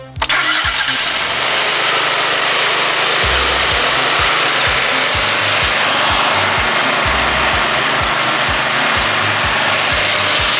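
Gas engine on a hydraulic unit cranks and starts with the choke on and half throttle, then settles into a loud, steady running drone with a rhythmic low thump, alone without talk.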